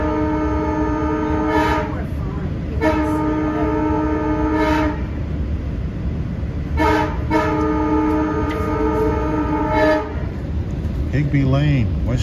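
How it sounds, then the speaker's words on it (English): Long Island Rail Road train horn on the Montauk branch, several loud sustained blasts in a long-short pattern over the steady rumble of a moving train. "as he blows his horn for the stations on the Montauk branch"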